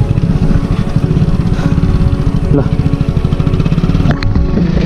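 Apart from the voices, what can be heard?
motorcycle engine straining uphill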